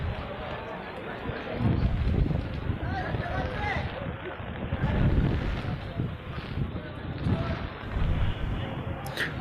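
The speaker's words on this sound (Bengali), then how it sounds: "প্রচণ্ড বাতাসের কারণে" Strong cyclone wind buffets the microphone in heavy rumbling gusts throughout at a river port ghat, nearly drowning out any other sound.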